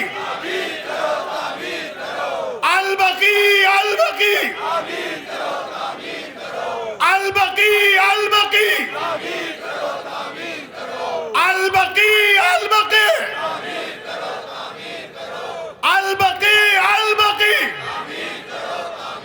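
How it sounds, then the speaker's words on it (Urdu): A large crowd at a Shia religious majlis in Samana, Punjab bellows loud slogans together in four repeated surges, each a few seconds long, with quieter stretches of a lone voice between them. "فلک شگاف نعرے لگائیے"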